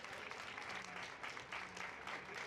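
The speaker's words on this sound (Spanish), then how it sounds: "quiero pedirles desde ahora un aplauso ya para Nadia, Celerina y Rosario Patricio" Steady, fairly faint applause from an audience at a poetry and book-fair talk honoring speakers Nadia, Celerina and Rosario Patricio, continuous dense clapping heard from a distance.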